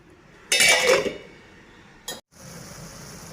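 A metal lid clanks onto a pot of cabbage and chana dal curry with a bright clatter, followed by a second short clink as it settles, then quiet simmering.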